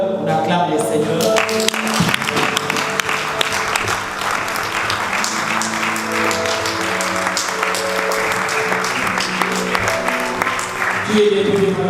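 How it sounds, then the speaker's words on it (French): Church congregation at a French-speaking evangelical Protestant service applauding and acclaiming the Lord, steady dense clapping mixed with cheering voices and music-like sustained tones throughout, loud and continuous. "On acclame le Seigneur."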